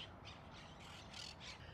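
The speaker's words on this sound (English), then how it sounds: "You could probably hear them right now. These are monk parrots." Monk parakeets squawk in Athens' National Gardens in winter, a run of about six harsh, raspy calls in a steady rhythm, faint and distant.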